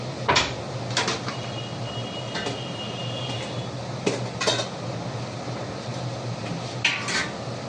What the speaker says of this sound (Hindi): तब तक मैं ये बर्तन साफ करती हूँ।